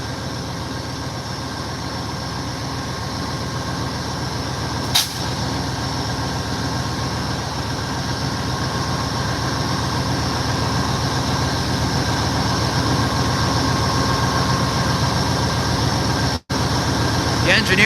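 An Amtrak California Zephyr stands at the Ottumwa, Iowa station, its idling locomotive giving a steady low rumble and hum throughout, with a brief clank partway and a sharp dropout near the end.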